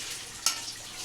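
Chicken curry being stirred in a frying pan, with a steady bright sizzle and one brief scrape of the spoon partway through.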